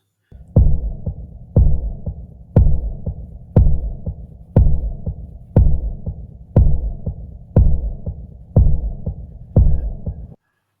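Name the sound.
AI-generated horror sound effect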